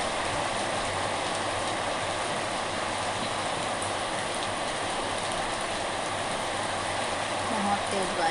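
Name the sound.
heavy rain falling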